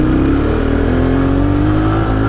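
A Honda 400ex quad with Stage 2 Hotcams accelerates, its engine note loud and close and climbing steadily in pitch as it revs up through the gear.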